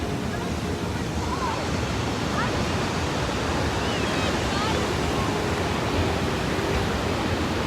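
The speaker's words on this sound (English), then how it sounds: "Look at the waterfall." Paterson Falls in New Jersey roars as a loud, constant broadband rush of falling water, steady and unbroken throughout, with no clear speech over it.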